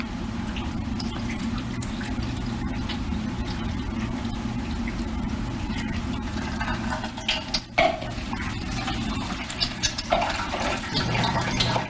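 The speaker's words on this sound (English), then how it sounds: "And then it's just a matter of adding water." Water pouring steadily onto soil samples in an infiltration tray comparing tilled-field and no-till soil, a continuous close splashing wash with a few brief louder gurgles near the end.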